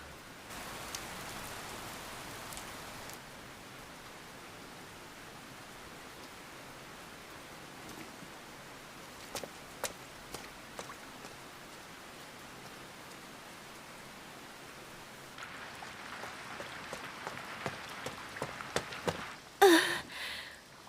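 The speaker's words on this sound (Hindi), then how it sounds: "बारिश शुरू हो गई है।" Heavy rain falls in a steady, soft hiss with scattered patter. Sharper drips and splashes grow louder near the end, and no one speaks.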